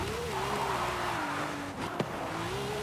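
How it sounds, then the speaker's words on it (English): A BMW X5M engine drones steadily in Forza Horizon 5, its pitch wavering slightly. The engine note dips briefly and a sharp click cuts in before it picks up again at the end. "Have that crazy sound from the engine."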